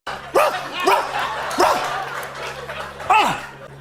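A host barks like a dog in pain after tasting a hot sauce: four or five loud, close, sharp yelping barks spaced across a few seconds, a human voice imitating a dog.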